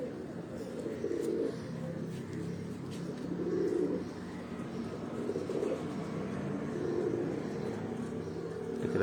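Pigeons coo in repeated soft, low phrases at close range, with faint bird chirps and someone speaking Punjabi over them in the background.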